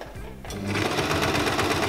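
Sewing machine stitching cotton fabric for a tea cosy starts up after a brief pause and runs with a steady, fast, close-up mechanical whir and rattle.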